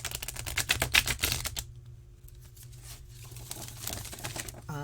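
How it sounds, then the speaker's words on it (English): A deck of transparent tarot cards is riffle shuffled: a fast, close, crisp flutter of cards snapping together, a brief quiet pause, then softer bridging riffles and a final burst as the cards settle. "try to shuffle them, riffle shuffle, traditional way"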